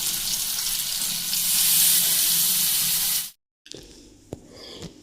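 Fish frying in a spice masala makes a dense, hissing sizzle for about three seconds, then cuts off abruptly to a quieter stretch with a few light kitchen clatters.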